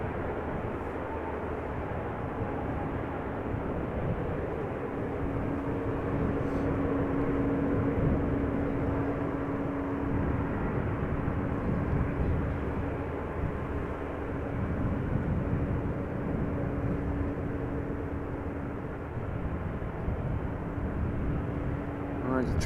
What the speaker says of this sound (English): this A350 will be going to Singapore from runway 24